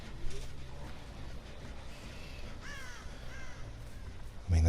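Crows caw in Dead by Daylight as a bird flies off, harsh repeated calls in the middle distance over a rumbling ambient bed, ending with a sudden loud low thump.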